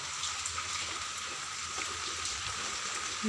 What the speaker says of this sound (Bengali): আজ রাত থেকে প্রচুর বৃষ্টি হচ্ছে